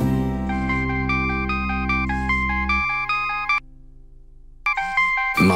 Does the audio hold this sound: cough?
no